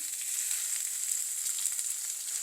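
A chopped large onion sizzles in hot oil in a kitchen pan, a dense, even crackling hiss running throughout with faint stirring clicks; no talking.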